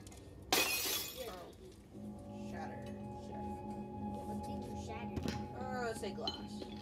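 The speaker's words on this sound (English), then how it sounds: "Shatter. What's shattered? Let's say glass." A sudden loud burst of shattering glass in the game Little Nightmares 2, followed by tinkling debris, with people talking over the quieter game sounds afterward.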